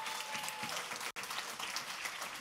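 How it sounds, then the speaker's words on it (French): A church congregation applauds during a Sunday service, a steady clapping wash at moderate distance with a brief sudden dropout midway before it resumes. "Applaudis ce merveilleux Jésus."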